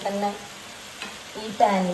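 Something frying in a pan, with a soft steady sizzle broken by a few brief clinks of stirring, heard close and fairly quiet with no talking.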